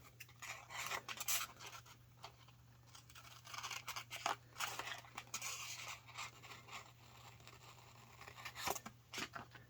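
Scissors snip and trim a sheet of 2000 grit sandpaper, giving a run of close, crisp cutting and scraping rasps that come in short irregular bursts with no talking.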